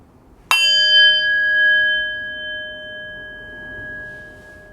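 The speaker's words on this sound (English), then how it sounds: "we will get started when I ring the bell." A meditation bell is struck once, its bright, clear tone ringing out and slowly fading across several seconds in an otherwise quiet room.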